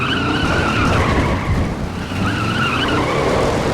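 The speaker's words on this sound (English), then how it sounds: "You can tell where the tire screeching sound loops." Tire screech from cars in the off-road racing video game FUEL, a loud continuous squealing skid over engine roar that runs steadily for several seconds with a slight dip midway, as if looping.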